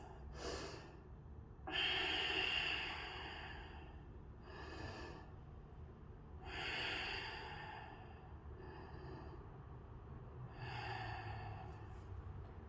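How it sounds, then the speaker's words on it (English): Three slow deep breaths during a stretching exercise, each a soft airy inhale and a long exhale, close and quiet with short pauses between them. "Take 3 breaths"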